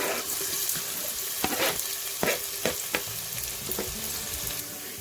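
Onion sizzles in half a cup of hot oil for an urad dal (maash ki daal) recipe, a steady close crackling with a few sharp stirring clacks and no voices.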